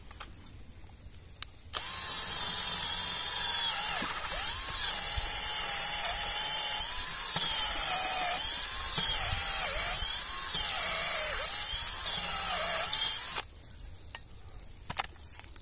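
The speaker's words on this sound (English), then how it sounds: "Drill in there." A power drill whines at a high, steady pitch for about twelve seconds, its tone wavering under load as it bores into wood, then stops.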